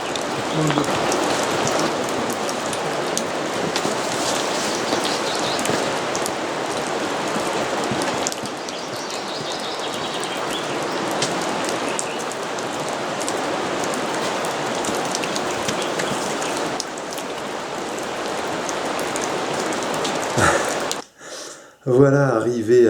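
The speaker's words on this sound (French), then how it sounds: "Ça pleut." Steady rain patters and hisses continuously close by, on a riverside hiking trail, with a brief disturbance near the end; no clear voices.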